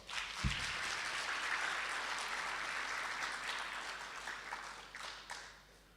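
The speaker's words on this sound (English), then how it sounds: "So I invite you to please give all of them a warm round of applause." Audience applause for panelists at a premier's economic roundtable fills the room in a sustained, even wash of clapping at moderate distance. It begins with a sharp thump and tapers off near the end.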